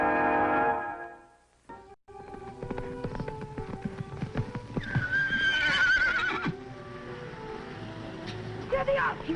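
Fury, a wild horse, whinnies loudly among clip-clopping hooves and galloping, with a voice talking over the scene and western music in the background.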